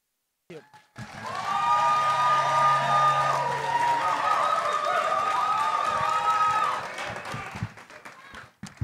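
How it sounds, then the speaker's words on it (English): Audience at a provincial by-election debate breaks into sustained clapping and cheering for several seconds, fairly loud and close, then tapers off with scattered claps. "I'd just like to remind the crowd, please, to keep your comments and your cheering or jeering during responses to a minimum"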